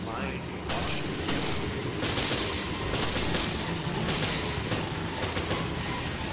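Gunfire in the Resident Evil video game: a dense, sustained burst of rapid shots and booms that runs through the whole stretch, loud and close, with a voice speaking faintly underneath.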